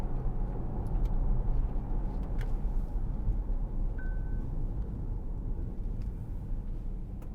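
Interior hum of a 2014 Audi Q7 3.0 TDI S line Plus Tiptronic quattro diesel under throttle through a bend, a steady low engine and road drone filling the cabin, with a brief faint chime partway through.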